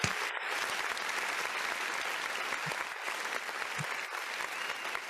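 An audience at a motivational event applauds steadily and densely, a continuous wash of clapping that holds at an even level from start to finish.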